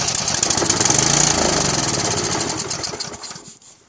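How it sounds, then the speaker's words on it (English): An engine is spun counterclockwise after being sprayed with carburetor cleaner, giving a steady rapid mechanical chatter and whir that holds for a few seconds, then fades away at the end. "we'll spin the engine counterclockwise to basically clean out any tar that's in there"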